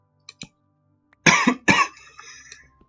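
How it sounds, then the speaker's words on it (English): One person coughs, two small throat sounds first and then two harsh, close coughs in quick succession, trailing into a faint rasp with nothing else around. "I really hate coughing."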